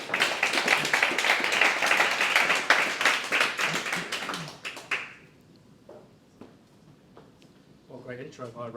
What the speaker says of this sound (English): So can we have a round of applause for our first speaker?